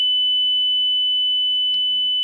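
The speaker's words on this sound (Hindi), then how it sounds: "बजर दबा दिया हमने।" Buzzer on a Cook's pole climbing apparatus used in a sedative drug test on a lab animal, sounding as a steady, continuous electronic high-pitched tone held throughout, with faint background hum and no speech.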